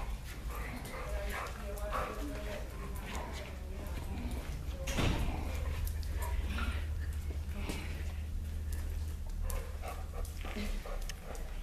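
A dog named Baxter whimpers and gives short barks while being roughhoused around the face in play, with a person talking over the excited yips close by.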